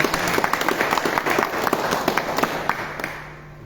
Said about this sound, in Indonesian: Tepuk tangan untuk Ansor Pasir.